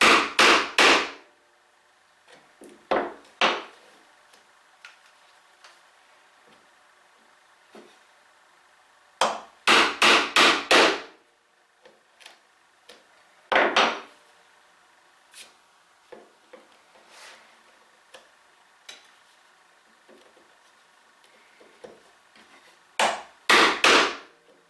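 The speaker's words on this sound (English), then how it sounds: "Now gradually walk the chisel up closer to the edges of the mortise." Chisel chopping a twin mortise in wood, struck by a mallet: loud, close, sharp blows in irregular clusters of two to four, separated by quieter stretches of faint scraping and tapping.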